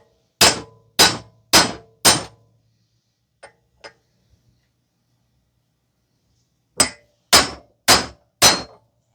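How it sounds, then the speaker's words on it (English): Socket struck with a hammer to drive a wheel hub out of a Toyota knuckle: four sharp, loud metallic blows in steady rhythm, a pause with two faint taps, then four more evenly spaced strikes. "I'm just going to use a socket and a hammer to hammer out the hub."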